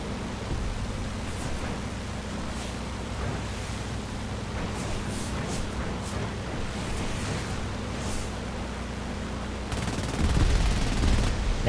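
Anti-aircraft guns fire from below in War Thunder on PS4, a dense, continuous rattle of rapid shots that runs for the whole stretch and grows louder and harsher near the end.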